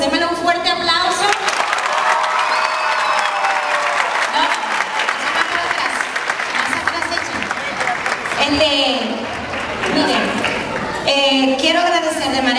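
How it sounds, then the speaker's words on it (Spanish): A large crowd claps loudly and steadily for several seconds, the applause swelling and then easing, with a few voices rising near the end. "Démelo un fuerte aplauso."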